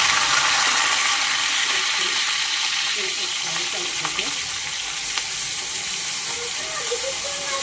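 Green chillies and masala frying in hot oil for a fish curry, a loud, dense, unbroken sizzle with faint stirring scrapes and a quiet voice murmuring beneath it.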